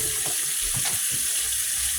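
Water runs steadily into a kitchen sink while dishes are washed with soap, a loud, continuous hiss with faint clinks of utensils underneath and no speech.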